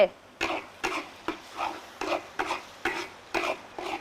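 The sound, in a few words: stir-frying in a pan with garlic and soy sauce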